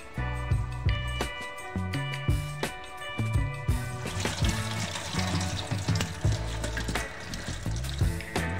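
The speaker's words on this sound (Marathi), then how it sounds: "आता मी हे पाण्यामधून काढून घेणार आहे आणि थंड पाण्याने धुवून घेणार आहे" Soya chunks being rinsed under a cold running tap in a home kitchen, water splashing steadily with repeated clanks and knocks of a vessel, close and fairly loud with no talk.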